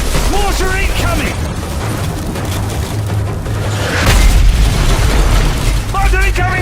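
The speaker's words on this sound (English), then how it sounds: "Mortar incoming, man!" Mortar shells exploding in a Modern Warfare battle scene, heavy low booms rumbling under continuous combat noise, with a louder blast surge midway and shouted voices over the din.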